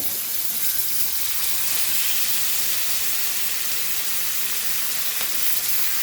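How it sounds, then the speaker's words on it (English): Hilsa (pedye) fish frying in hot oil for a Goan fry, a loud, dense, continuous hiss and sizzle that stays steady from start to finish. "add our fish and fry it crispy. Oil is hot. Let's fry this."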